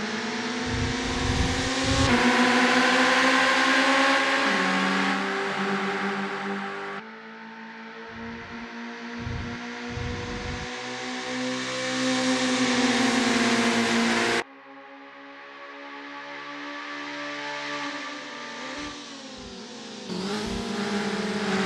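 Kei car engines race around Tsukuba Circuit in Assetto Corsa, several small engines revving and shifting through gears, a high buzzing whine that drops sharply at each upshift and climbs again, loud and continuous.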